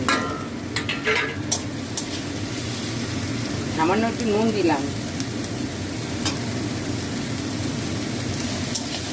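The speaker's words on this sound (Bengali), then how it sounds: "গাজর, ক্যাপসিকাম আর কাঁচা লঙ্কা এগুলো দিয়ে দিচ্ছি। সব একসঙ্গে আমি ভেজে নেবো।" Carrots, capsicum and green chillies frying together in a pan, a dense steady sizzle with stirring scrapes, while someone talks briefly over it.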